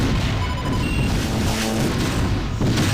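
A missile detonates in a space starfighter battle, a dense, loud booming roar filling the moment with rumbling low end and a fresh surge near the end, no voices.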